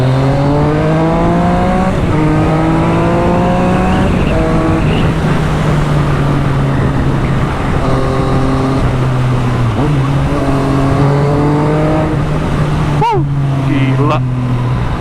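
A Yamaha MT-09 motorcycle fitted with OZ wheels pulls hard and steadily, its loud, close engine rising in pitch through several gear shifts, with wind rush and talk over it.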